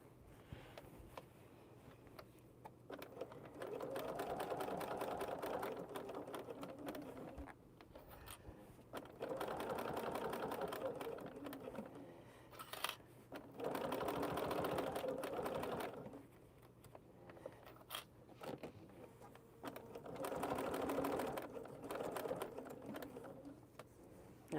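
A sewing machine stitches a duffle bag in several bursts of rapid mechanical whirring and ticking, close up and steady, separated by short pauses.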